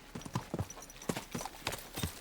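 Horse hooves clip-clop at a steady walking rhythm in the video game Kingdom Come Deliverance II, close and fairly loud, with a faint voice briefly underneath.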